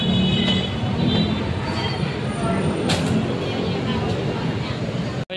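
Inside an MRT station, a steady loud rumble of train and rail noise fills the space with a metallic squeal rising briefly, and voices murmur faintly underneath.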